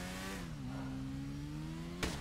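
A motorcycle engine in a video game hums at a steady mid pitch, its tone shifting slightly as it idles and revs, fairly faint beneath constant background noise, ending in a short sharp burst.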